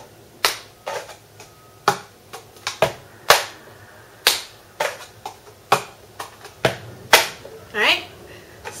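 A cup song rhythm of hand claps and taps of a cup on a table: a quick, repeating pattern of crisp, close strikes with a few softer knocks between, and a brief voice near the end.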